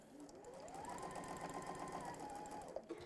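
A sewing machine stitches a folded pouch, making a quick holding stitch: the motor rises into a fast steady whir for about two seconds, then winds down, close up.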